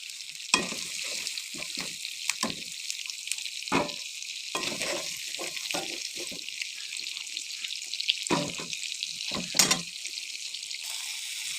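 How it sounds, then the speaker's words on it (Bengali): Large prawn pieces fry in hot oil in a home kitchen, a continuous bright sizzle punctuated by louder spitting bursts and crackles as the pieces are moved, with no talking. "এবার চিংড়ির বড় বড় টুকরা একটু ভাজি করে নেবো"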